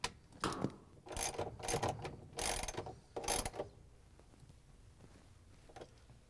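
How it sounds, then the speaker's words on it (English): A hand ratchet with an extension and a 3/8 inch socket drives bolts back into a GE washing machine, giving bursts of quick mechanical clicking near the mic, then quieter handling. "We're gonna use the ratchet with the extension and the 3/8 inch socket to put in the bolts."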